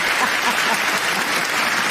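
A debate hall audience breaks into continuous, fairly loud applause, a dense even patter of many hands.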